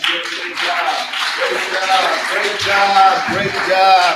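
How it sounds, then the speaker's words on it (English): A church congregation at an addiction ministry Sunday service gives a round of applause, steady clapping mixed with cheering voices and talk, loud and sustained. "Y'all give me up winner and Abe another round of applause."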